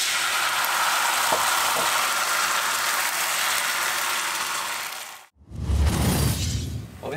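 Rice-flour pancake sizzling in coconut oil in a strongly heated pan, a steady broadband hiss for about five seconds before it cuts out briefly, then a louder, rougher burst of crackling frying near the end.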